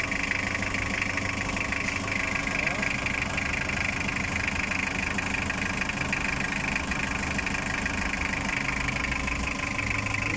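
A Toyota 2L diesel engine runs steadily after a top overhaul with a replacement cylinder head, a continuous close, loud idle with knocking clatter and vibration throughout.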